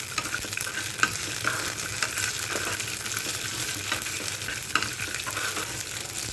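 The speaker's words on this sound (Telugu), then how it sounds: "అది వేడెక్కిన తర్వాత ఇవి వేసేసుకొని ఎక్కువ తాలింపులో లాగా బాగా వేగకుండా జస్ట్" Ingredients for an oats breakfast fry lightly in hot oil in a pan, a continuous close sizzle with occasional stirring clicks and no talking.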